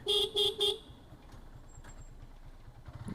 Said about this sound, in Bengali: আমি ওনাকে হর্ন দিলাম যে ভাই সাইড দেন